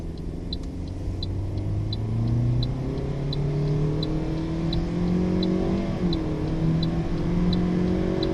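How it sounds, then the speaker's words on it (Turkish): Toyota Yaris 1.33 car engine accelerating, a steady mid-pitched rev that climbs and dips slightly over several seconds, heard from inside the car with a faint rhythmic ticking and no talk. "Şu an tekrar bir hızlanmayı deneyeceğim."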